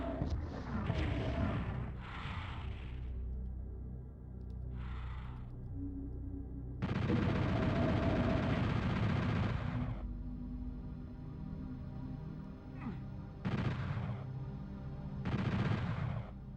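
Gunfire in the Final Doom video game: loud, heavy blasts in separate bursts, some long and sustained, others short, spaced out over a continuous low rumbling game background.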